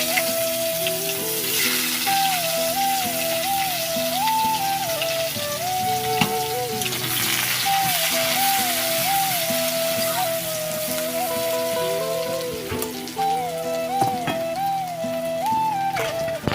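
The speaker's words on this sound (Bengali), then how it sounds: "পেঁয়াজটা আমি হালকা লাল লাল করে ভেজে নেব" Chopped onions fry in oil with cumin seeds for an egg curry, giving a steady, dense sizzle throughout, with tuneful background music playing over it.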